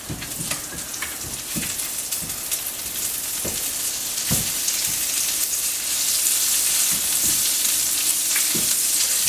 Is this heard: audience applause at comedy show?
no